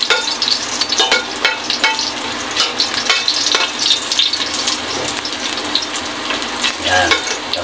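Ingredients fry until golden brown, giving a loud, close, crackling sizzle broken by frequent spatula scrapes and stirring clinks throughout.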